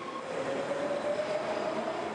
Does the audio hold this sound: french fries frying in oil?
no